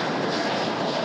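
A Qantas Boeing 787-9 Dreamliner flies low over the city at about 2,000 feet, a loud, steady, broadband jet roar filling the whole moment without voices.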